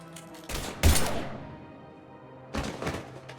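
Gunfire in the video game Mass Effect Legendary Edition comes as a couple of sharp, loud blasts close together, then a quieter lull and another burst of heavy shots, with no talking.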